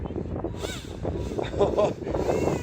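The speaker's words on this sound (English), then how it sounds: "I just wish the wind wasn't so strong." Strong wind buffets the microphone outdoors by the water where a small RC fan boat runs, low rumbling gusts surging under a man's speech.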